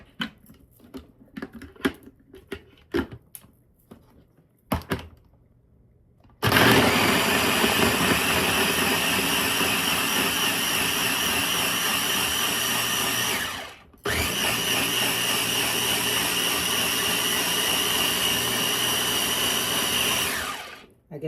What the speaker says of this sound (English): I guess that means I got the baby blender.